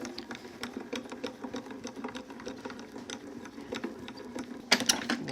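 An embossing machine rolls a card through with a steady, quiet mechanical cranking and clicking, close by, ending in a couple of sharper clacks.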